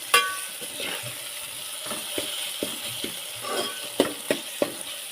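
Cowpea pods (chavli) stir-fry in a pan: a steady sizzle under repeated sharp scrapes and taps of a spatula, growing more frequent near the end, close up with no talk.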